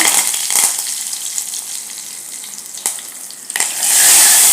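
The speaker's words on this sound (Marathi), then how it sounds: "चार लसणाच्या पाकळ्या अशा चेचून घेतल्या आहेत त्या घालायच्या कढीपत्ता घालायचा" Crushed garlic cloves and curry leaves hit hot tempering oil, giving a loud, close, continuous sizzle with a few crackling spikes and a fresh burst of hissing spatter near the end.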